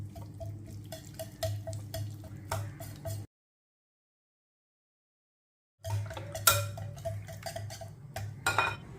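A spoon clinks against a bowl while a lemon-juice marinade for paneer tikka is stirred, giving quiet repeated taps and scrapes that break off in a gap of silence midway and then resume.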